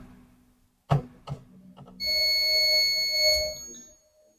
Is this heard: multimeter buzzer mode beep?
yes